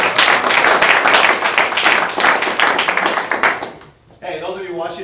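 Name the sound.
office meeting audience clapping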